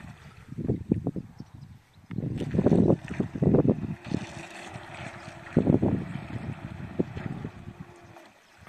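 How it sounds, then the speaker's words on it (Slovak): A small remote-controlled boat moves off across the water, its motor and splashing rising in bursts over steady wind noise, fairly close and without talk. "Teraz sa trošku odplavím s tou loďkou."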